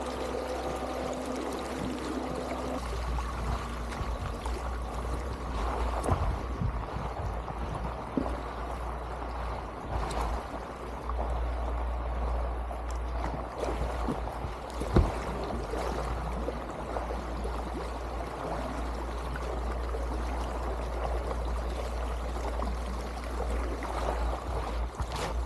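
An Asiwo U1 SUP paddle board motor running in gear 3 on a river, a steady low hum under continuous rushing, splashing water, close and even throughout.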